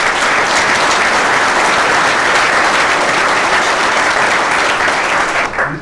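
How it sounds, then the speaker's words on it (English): A large audience claps loudly and continuously at a Saab club heritage museum gathering, a dense, steady roar of applause that tapers off right at the end. "So a big round of applause for Jerry"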